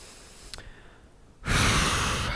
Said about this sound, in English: 2 more deep breaths